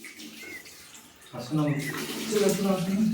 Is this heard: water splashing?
yes